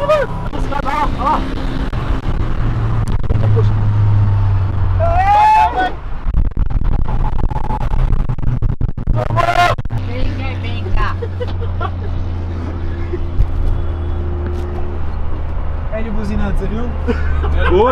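A VW Kombi van fitted with an Audi S3 engine drones and pulls hard as it accelerates, its steady engine roar running loud throughout beneath excited shouting from people inside.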